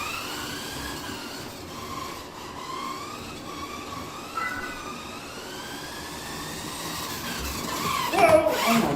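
A 1994 Tommy Kaira M13 RC car understeers and slides into a track banking. A steady high motor whine runs throughout, and a brief scrape and thump of impact comes near the end.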